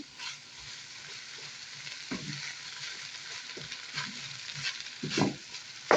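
Rice frying in a pan with onion, three garlic cloves and salt, a steady sizzle with scraping stirring strokes and occasional louder clatters, close and continuous with no talking.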